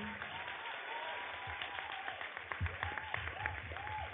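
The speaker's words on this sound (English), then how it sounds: "So one huge round of applause for this amazing ensemble." Audience applause for a theatre ensemble after a Mamma Mia production, a steady wash of clapping heard through a room with voices and singing-like tones rising over it.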